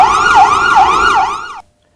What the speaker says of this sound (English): within 10 minutes, the ambulance arrived at the scene